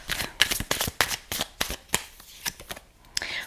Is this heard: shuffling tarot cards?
yes